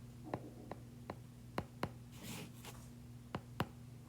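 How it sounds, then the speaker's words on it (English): Pen strokes on paper while noting down an EMT exam answer: a series of soft, sharp ticks and scratches spaced irregularly, with a brief rustle in the middle, quiet against a steady electrical hum. "I'll write that down."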